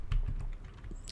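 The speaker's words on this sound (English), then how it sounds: "when I'm doing this, I'm hitting Control Enter." A computer keyboard is struck in a short burst of key presses, a few close, crisp taps with a heavier keystroke near the start, alone without talk.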